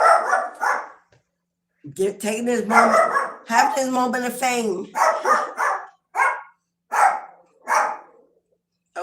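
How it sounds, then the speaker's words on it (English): A dog barks in repeated short, sharp yips between and under a person talking nearby, several bursts spread across the stretch at a close, fairly loud level. "there's my doggy."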